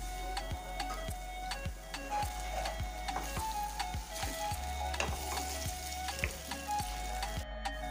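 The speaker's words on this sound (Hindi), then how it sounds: "अब इसमें हम डालेंगे जिंजर गार्लिक पेस्ट, ये 2 बड़ा चम्मच मैंने लिया था। इसे हम अच्छे से भून लेंगे।" Ginger garlic paste frying with browned onions for achari mutton, a steady close sizzle with regular spoon taps against the pan roughly every half second.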